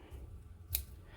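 Scissors trimming the ends of a gingham ribbon bow tied around a greeting card: two short, crisp snips, one midway and one right at the end, close up over a quiet room.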